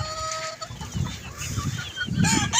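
Chickens cluck and chatter close by at a chicken farm, several birds overlapping in short bursts over a quiet background.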